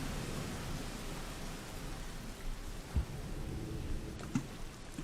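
Rain falls in the video game Rain World, a steady soft hiss of downpour with a couple of faint low thumps, quiet and unbroken by speech.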